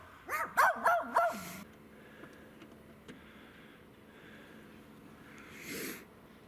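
Several dogs bark in a quick cluster of four or five loud yips and woofs near the start, then fall mostly quiet, with a faint whimper or snort later on.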